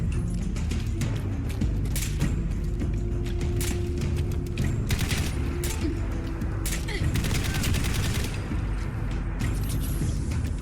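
Dense, continuous gunfire in Fallout 4 crackles and rattles through the whole stretch, with sharp bursts layered over a steady low mechanical hum, loud and busy without pause.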